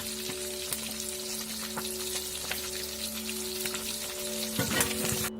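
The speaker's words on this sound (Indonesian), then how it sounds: "inilah suara contoh dari wajan penggorengan" A pan sizzles and crackles steadily, with fat spitting in small irregular pops over a constant hiss.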